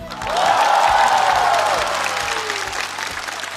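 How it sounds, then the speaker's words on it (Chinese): Warm applause from a studio audience at a live comedy roast show, a dense close burst of clapping that swells quickly and then slowly tapers off. "再次让我们用热烈的掌声感谢一直陪伴我们的客户们"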